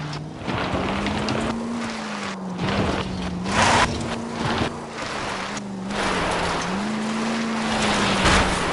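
An engine roars steadily at speed in the video game L.A. Noire, its pitch wavering as it shifts and revs, loud and continuous with a wind-like rush over the top.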